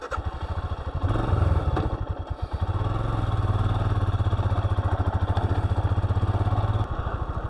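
A motorcycle ridden along an outback highway in Australia's Bungle Bungles region, its engine droning loud and steady close by, with a low rumbling pulse and brief dips as it pulls away.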